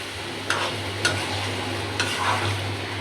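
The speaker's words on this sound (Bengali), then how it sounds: "একটু ভালো করে কষাকষি করে আর কোনো পানি পুড়ি দেবো না" Loitta fish (Bombay duck) being stir-fried and braised in a pan, with a steady sizzle and a few distinct spatula scrapes and clinks at intervals, close and moderately loud, no talking.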